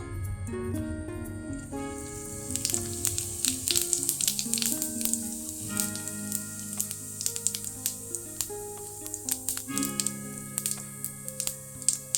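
Cumin seeds sizzle in hot oil for a chicken curry, a bright continuous crackle with scattered pops and spatters close to the pan, while a steady tonal hum runs underneath.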